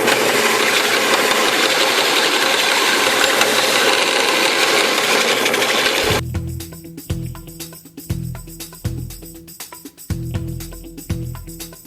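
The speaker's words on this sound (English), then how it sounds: "Got them all taped together, so we'll grind them all at once." Angle grinder working a stack of metal straps taped together for a 3-hole strap, a steady loud broadband grind for about six seconds, then cutting off to a quieter run with intermittent low thumps and clatter.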